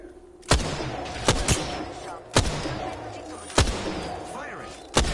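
Five heavy, booming shots in a video game, spaced about a second apart, with a low rumble between them.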